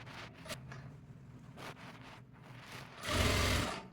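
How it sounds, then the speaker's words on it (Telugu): Sewing machine slowly stitching blouse fabric in a tailoring session, a faint low whirring with scattered light scrapes and fabric handling, ending in a louder burst of stitching near the end. "కన్ఫ్యూజ్ అవ్వకుండా స్లోగా స్టిచ్ చేసుకోండి."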